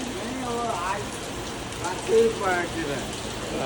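Steady rain patters in the background at Khalapur while someone talks over it.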